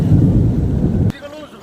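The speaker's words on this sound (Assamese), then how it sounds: "এই চাওক পানী চাওক, কিমান বৰষুণ" Heavy rain at Sarusajai stadium in Kahilipara pours down as a loud, dense, steady roar for about a second, then cuts off abruptly to near quiet.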